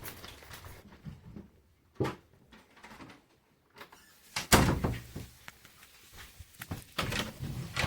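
Something bumps against a basement door, giving a few separate knocks and thuds spaced over several seconds, the loudest near the middle, between quiet gaps.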